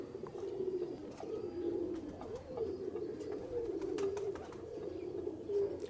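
Soft, low Ferozpuri pigeon coos repeat in a gentle rolling rhythm, fairly close, with faint background noise and occasional small clicks.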